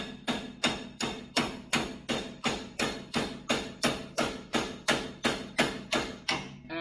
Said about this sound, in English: we're going to wedge this right here and hammer away until it pops